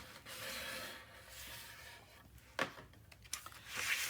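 Paper is burnished down onto a mini album page, making soft, close scraping rubs in short strokes with a few sharper scuffs, quiet and without speech.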